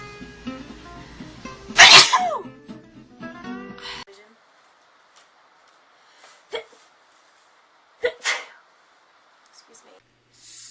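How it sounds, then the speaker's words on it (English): A young woman sneezes once, loudly and close to the mic, after a brief stretch of vocal sounds. The clip then goes quiet, with only a few small, faint noises afterward. "I need to sneeze."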